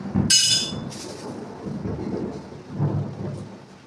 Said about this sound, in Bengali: বাবা কি বিদ্যুৎ চমকাচ্ছে!